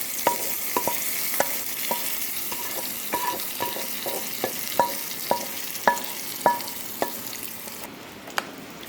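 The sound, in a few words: hot oil tempering added to bitter gourd pachadi, sizzling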